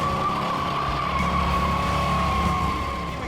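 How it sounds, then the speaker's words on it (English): A Chevy K1500 pickup truck does a one-wheel burnout, its tire squealing in a sustained high screech over a steady engine roar, loud and continuous. "What do you say we burn the rubber off these bad boys?"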